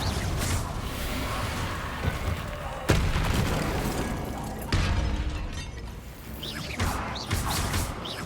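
Spell blasts from Hogwarts Legacy, with a Confringo fire spell cast during a magic duel: dense, loud game combat carrying several sharp bursts and crashing impacts at regular intervals over a constant rumble of music and effects.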